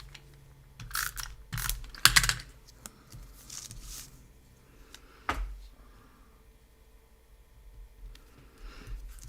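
Snips of scissors cutting a small piece of gold trim from a picture frame, a few sharp clicking cuts in a quick cluster near the start and a single louder snip midway, otherwise a quiet room.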